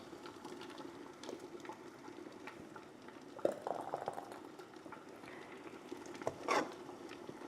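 Hot homemade tomato soup bubbling and stirred as it is ladled up for canning jars, a soft steady simmer with a couple of louder wet scoops and splashes near the end.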